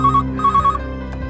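A telephone rings with a bright electronic warbling tone in two loud bursts, close and clear, with no voices over it.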